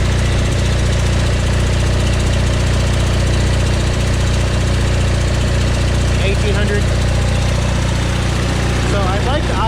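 An Onan engine on a John Deere 318 garden tractor idles at a fast, even rate, a loud continuous mechanical drone with steady knocking pulses, close by, while a person talks briefly over it.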